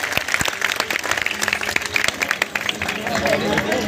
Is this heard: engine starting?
no